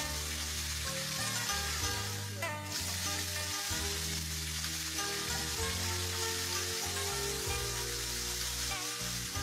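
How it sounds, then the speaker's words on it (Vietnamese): Frog meat is stir-fried with lemongrass and chili in a pot, giving a loud, continuous oily sizzle with occasional stirring scrapes, close up and steady throughout. "xào sả ớt cho thơm, dậy mùi, rồi cho mớ thịt nhái vô xào chung"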